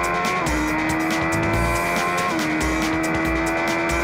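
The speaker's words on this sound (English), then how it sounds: "we thought we would give the BM a chance to show its paces on our drag strip" A BMW S1000R superbike runs hard on a drag strip, a loud, continuous high-revving engine scream with pulsing gear-change dips, close and unbroken for several seconds, with no talk.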